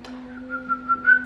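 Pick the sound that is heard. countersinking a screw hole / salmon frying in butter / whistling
whistling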